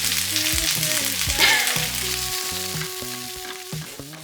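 Vegan food frying in a pan in a holiday-rental kitchen in Crete, stirred with a metal spoon: a steady close sizzle with scraping and knocks against the pan.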